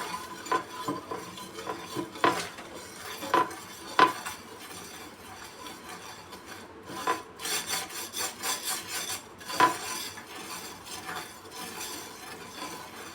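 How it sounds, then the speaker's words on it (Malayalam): Coarse salt scraped hard against a rusty iron pan in rough, uneven strokes, a loud close grating rasp with short bursts and brief pauses, no voices. "കുറച്ചുകൂടെ ഉപ്പെടുത്ത് നമുക്ക് ഉരച്ച് തേച്ച് കൊടുക്കാവുന്നതാണ്."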